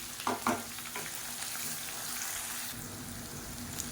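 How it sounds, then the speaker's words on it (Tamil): Onion, crushed garlic and slit green chillies sauté in a pan with a steady close hiss of frying, a couple of brief stirring knocks at the start, and no talking. "இப்போ பாருங்கள் வெங்காயம் பூண்டு நல்லா வதங்கிடுச்சு"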